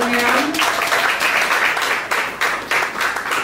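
A church congregation bursts into applause during a service, loud and close, with a dense wash of clapping that thins into scattered claps, and a voice speaking at the start.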